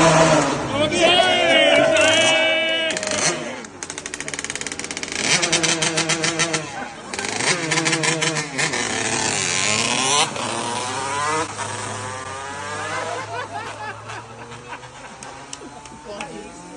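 Small motorbikes and mopeds rev and buzz past one after another, engines whining up and down in pitch, loud and close on a busy street in a Black Forest town.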